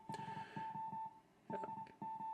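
A steady high-pitched tone keys on and off in a Morse pattern of short and long beeps, faint over a noisy hiss on a vintage Heathkit shortwave receiver.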